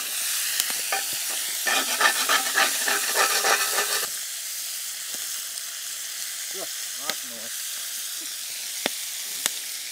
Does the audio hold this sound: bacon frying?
yes